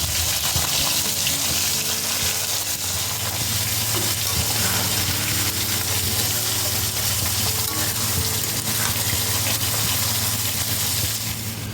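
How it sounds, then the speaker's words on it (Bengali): Fish rubbed with salt and turmeric frying in a pan, a steady loud sizzle and crackle of hot oil that runs unbroken for the whole stretch, with no voices. "মাছে একটু নুন হলুদ মাখিয়ে নিচ্ছি চলো এবার ভাজা করে নিই"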